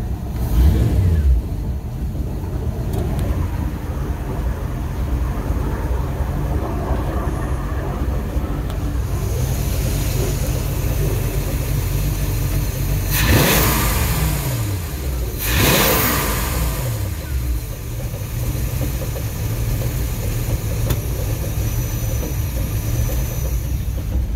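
An engine that sat unused for a season and a half runs loud and close, climbing through two sharp revs in the middle before settling back to a steady rumble.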